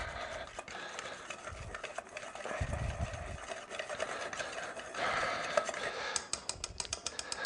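A utensil stirs flour and oil in a pan, producing a continuous scraping, rubbing sound with steady rhythmic strokes, close and fairly quiet.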